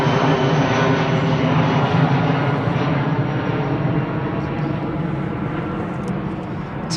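A Boeing 777-200 with General Electric engines roars at Heathrow, a broad steady jet rumble that holds loud and then slowly fades as it passes, with no voices.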